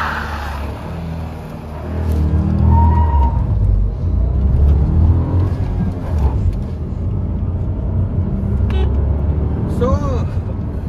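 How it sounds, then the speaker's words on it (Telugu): Engine of a 2025 Renault Kiger accelerating hard in sport mode, a steady low drone that swells and holds under continuous talk from the driver. "ఒకసారి దీన్ని యూటర్న్ చేసుకొని దీన్ని కంప్లీట్ 160 Nm టార్క్ అనేది అన్లీజ్ చేసి చూద్దాము"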